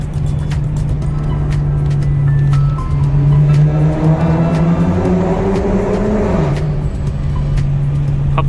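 A Dodge Challenger accelerates hard through a tunnel, its engine droning loud and close with a rising pitch that swells mid-run, then settles back into a steady roar.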